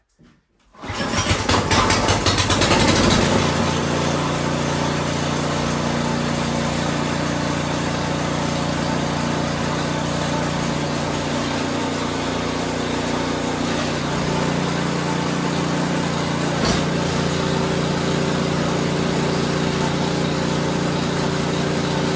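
An Ariens Platinum 24 snowblower engine catches on the pull start and roars to life, then runs at a steady, loud, high-pitched drone close by for about twenty seconds.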